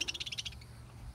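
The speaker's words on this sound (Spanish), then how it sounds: "Esa es mi jaula de pericos" Australian parakeets in a cage give a quick burst of rapid, high chirping chatter, a short run of repeated notes near and fairly faint before fading into quiet.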